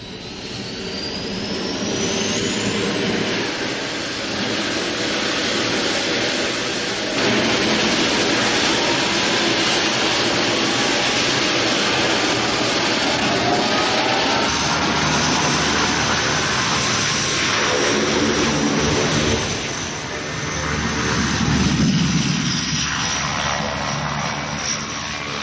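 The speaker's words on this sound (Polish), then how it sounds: "Proszę o zezwolenie na uruchomienie silników." Aircraft jet engines spool up at startup to a loud, steady roar with a rising whine, sustained and close for the whole stretch.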